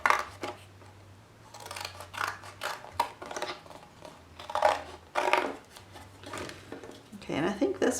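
Scissors trimming paper for a robot collograph craft, giving repeated crisp snipping cuts in short bursts while a person talks over the work.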